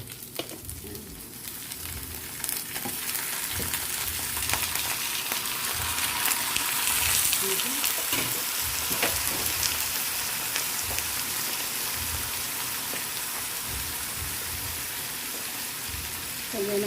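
Squid frying in a pan for adobong pusit gives a steady, dense sizzling hiss that swells after the first few seconds and holds loud, with faint stirring and clatter underneath.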